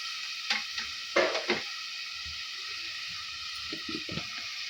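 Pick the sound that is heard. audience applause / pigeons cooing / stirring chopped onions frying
stirring chopped onions frying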